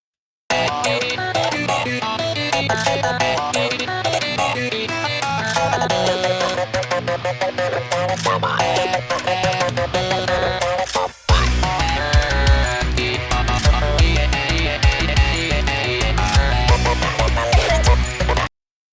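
A dense Friday Night Funkin'-style musical passage with a melodic sampled vocal line over busy instrumentation, briefly cutting out midway before returning with heavier bass.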